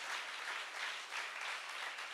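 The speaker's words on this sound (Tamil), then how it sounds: "Just clap and say hallelujah to the Lord." A worship congregation claps together in sustained applause for the Lord, a dense, even wash of hands that holds steady for the whole stretch with no voices on top.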